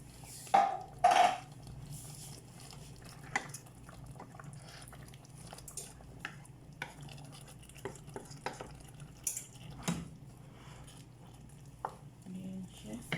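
Chicken being stirred and cooked in a pan before going into the oven with potatoes and tomato, soft intermittent scrapes and taps with a faint sizzle, fairly quiet, with a voice briefly heard at the start.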